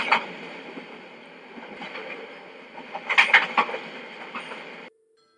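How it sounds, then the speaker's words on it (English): A train rolls in with a constant rushing hum, a few metallic squeals and clanks rising near the end before the sound abruptly cuts off. "The train is on time and it's arriving."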